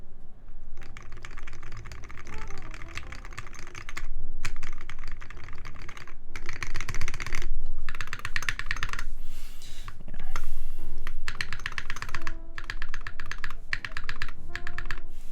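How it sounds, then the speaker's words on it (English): Rapid typing on a prototype mechanical keyboard, close and clear, with dense clacking keystrokes and occasional deeper spacebar thumps in bursts and pauses. "when I'm testing the spacebar, I actually really only care about how the spacebar sounds when I'm typing"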